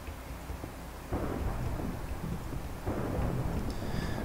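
Steady rain falling in the Minecraft world, a broad continuous hiss that thickens partway through, with low rumbles like distant thunder and no voices.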